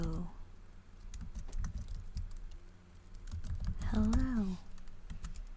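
Computer keyboard keys tap along in a steady stream of close clicks, with a brief voiced sound rising over the typing near the end.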